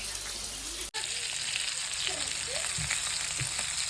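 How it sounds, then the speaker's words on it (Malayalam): Fish frying in hot oil at home, a steady close sizzle that crackles without a break, with a short clatter near the start and faint voices under it. "നല്ലോണം അങ്ങോട്ട് പൊരിയട്ടെ"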